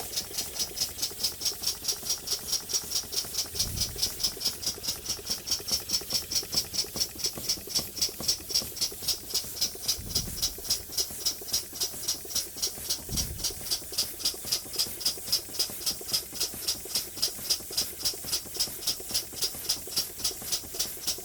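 A small Bing Poppit model steam engine running in, a fast steady chuffing rattle with hissing steam, even and continuous with a few low thumps.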